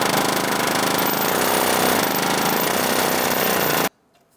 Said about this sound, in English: I'm going to use my air hammer with a punch tip on it